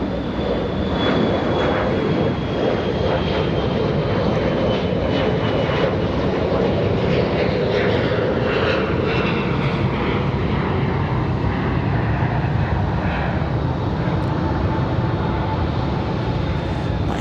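An airliner departing Raleigh-Durham airport roars loudly and steadily throughout, a broad jet engine rumble with a slowly sweeping whine, close and unbroken with no voices.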